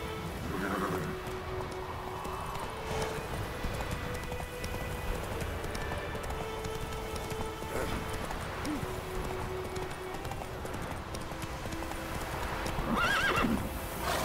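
Hooves clip-clop at a steady run over a low ambient bed in The Witcher 3: Wild Hunt, with a horse whinnying briefly near the start and again near the end.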